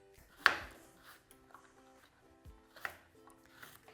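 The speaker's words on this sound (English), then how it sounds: "chop your celery, your onion, and then peel and chop the carrots" Celery, onion and carrots being chopped on a cutting board for chicken noodle soup: a few separate knife strikes, close and fairly quiet, with gaps of near silence between them.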